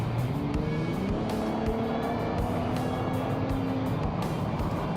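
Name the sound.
pickup truck exhaust while driving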